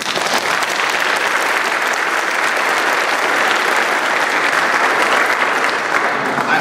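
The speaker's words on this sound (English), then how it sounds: "Give him a big round of applause" A crowd at the St. Nicholas Awards gives sustained, loud applause for the icon painter, a dense even wash of many hands clapping steadily without break.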